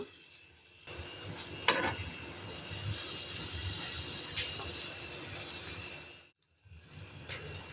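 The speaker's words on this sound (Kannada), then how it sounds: "ಪ್ಯಾನ್ ಇಟ್ಟಿದೆ ನೋಡಿ, ಫ್ರೈ ಆಗಲಿಕ್ಕೆ ಇಡುವ" Garlic bread sizzles steadily in a pan over a low flame, a soft continuous hiss that starts after a quiet second and runs for about five seconds, with a small clink early on, before a brief pause.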